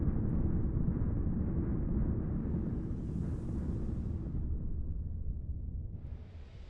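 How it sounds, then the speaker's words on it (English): Storm in the abyss in the video game Starsector, a deep continuous roaring rumble with a hissing wash that swells and fades, steady and without talk. "we're going through a storm right now"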